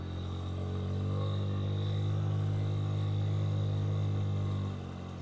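A Honda Ruckus scooter riding a rutted off-road trail on knobby tires, its small engine droning steadily and close throughout, easing off slightly near the end.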